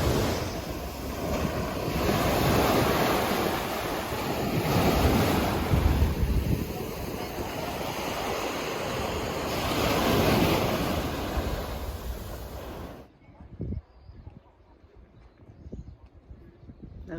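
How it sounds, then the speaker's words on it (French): Waves breaking on the long beach of Ré on Crete, a steady loud roar of surf buffeted by wind noise on the microphone that cuts abruptly to a quieter, patchy background. "Ça, c'est la plage de Ré, sur l'île de Crète"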